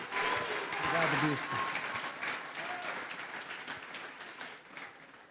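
A church congregation claps throughout, the sound diffuse and moderately quiet, with a voice speaking over the applause early on.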